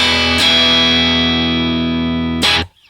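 An electric guitar chord rings out through a clean Fender Deluxe Reverb amp model on a Line 6 Helix, sustained for a couple of seconds, then restruck once and cut off abruptly.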